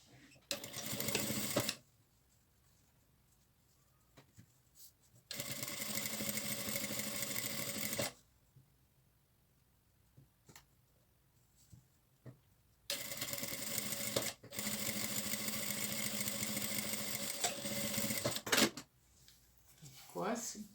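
A sewing machine topstitches a fabric bag together with its lining in bursts of steady, close stitching, with quiet pauses between runs and brief handling noises.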